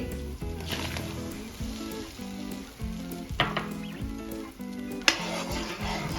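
Ginger-garlic paste sautés with melted tomato in a pan, making a close, moderate sizzle with regular spoon scrapes and knocks in a loose rhythm, plus a sharper clink near the end.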